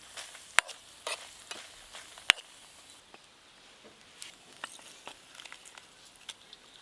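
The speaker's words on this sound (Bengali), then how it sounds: "এই দেখুন কি সুন্দর ভাজা হচ্ছে লঙ্কা তেলটা" Red chilies fry in mustard oil in a pan over a hot clay stove, giving a soft close sizzle with scattered crackles and a few sharp pops and clicks, fairly quiet and free of talk.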